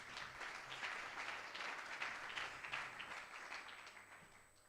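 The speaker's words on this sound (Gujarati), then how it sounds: "ખૂબ આપણે તાળીઓથી વધાવીએ." An audience at a satsang gathering in Bavla claps steadily in a sustained, even wave of applause, fairly distant and filling the hall without any talk over it.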